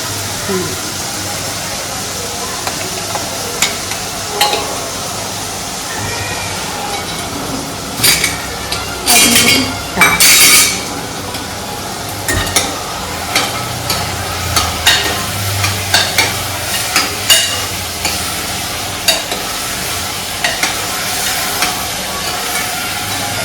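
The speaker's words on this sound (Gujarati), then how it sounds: "હવે શાક વઘારે છે" Steady sizzling of vegetables being tempered in hot oil, with scattered clinks of a utensil against a pan, a few louder bursts midway, and people talking intermittently.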